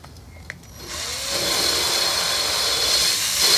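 A power drill honing a wetted engine part from a 1960s Sears Custom lawn tractor with a Tecumseh 6 hp engine. After a quiet click it spins up into a steady, close, high-pitched whirring grind.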